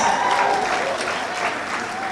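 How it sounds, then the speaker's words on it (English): Audience applause for County Down and Newcastle at the Down Rose of Tralee event, an even, sustained patter of many hands at moderate loudness with a faint tonal voice or music line beneath. "give County Down and Newcastle a massive round of applause."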